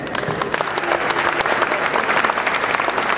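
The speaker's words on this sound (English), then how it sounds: "You can feel free to clap, scream," An audience at the 2009 New York Pest Expo bedbug edition breaks into dense, sustained applause, loud and close, with crowd noise and possible cheering mixed into the continuous clapping.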